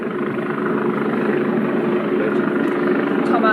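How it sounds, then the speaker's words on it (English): A helicopter flies overhead above quiet Westminster in London, its steady rotor drone and engine roar filling the scene at constant loudness with no other sounds. "there's a helicopter flying overhead"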